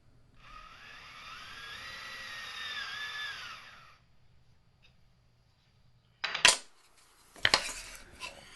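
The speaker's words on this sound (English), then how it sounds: "Next step, just drill the holes in." A whining power drill bores holes through a wooden joint steadily for several seconds, then stops; after a pause come two bursts of clattering, scraping metal.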